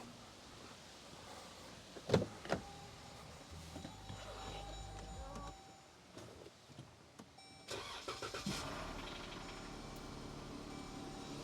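A Jeep 3.6L V6 engine starts after rocker arm and oil filter adapter repair: a click, then a few seconds of cranking before it catches and settles into a steady idle. No voices.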